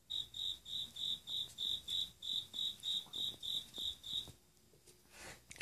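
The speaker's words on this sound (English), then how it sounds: "Where are you, little cricket?" A cricket chirps inside a house in a steady, evenly spaced series of bright pulses, close and clear, then falls silent near the end.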